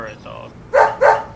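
Two loud, close barks from Willie, a dog in the video game Deadly Premonition, come in quick succession after a brief stretch of quieter sound.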